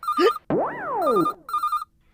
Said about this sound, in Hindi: आपको याद करने वाले का फोन आ गया